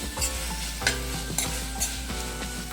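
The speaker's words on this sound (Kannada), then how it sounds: "ಸೊ ಇದನ್ನು ಚೆನ್ನಾಗಿ ಫ್ರೈ ಮಾಡ್ಕೊಳ್ಳೋಣ." Turmeric mango gojju fries in a pan with a constant loud sizzle, broken by rhythmic scrapes and taps of a spoon stirring, close by with no speech.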